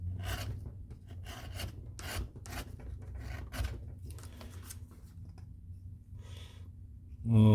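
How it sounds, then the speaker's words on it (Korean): A blade shaves and skives leather thin for a luxury belt, giving repeated close, soft rasping scrapes in short strokes over a low steady hum, with a louder knock at the very end. "이쪽을 좀 더 깎아줘야 됩니다."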